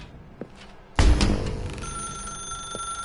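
A telephone rings in The Stanley Parable video game, a sudden loud bell burst with a sustained, shimmering ringing tone that lingers clearly, heard alone without talk.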